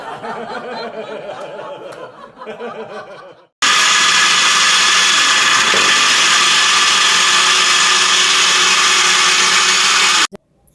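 After a few seconds of talking, a blender mixing apple, milk and cream roars on loudly and whirs steadily for about seven seconds before stopping abruptly.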